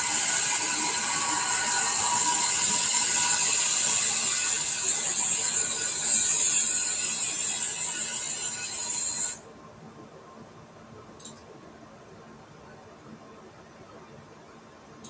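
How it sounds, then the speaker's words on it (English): A three-axis vertical machining center with a 12,000 rpm spindle processes a workpiece, a steady loud high-pitched whine and mechanical hiss that cuts off abruptly partway through, leaving only a quiet hum and a few faint clicks. "let's look at this three-axis machine processing"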